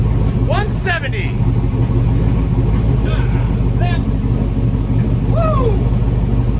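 Truck engine on a ramp truck build idling steadily with a low rumbling drone and occasional exhaust pops, while someone talks over it.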